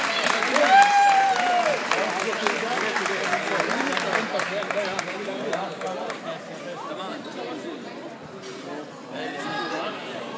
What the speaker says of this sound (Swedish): En stor applåd för Lena United